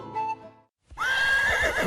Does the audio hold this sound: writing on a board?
no